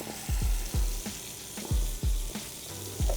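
Onions sizzle in a pan with fat drippings, frying steadily while being tossed, with a series of sharp low clunks of the pan or utensil recurring every half second or so over the constant hiss.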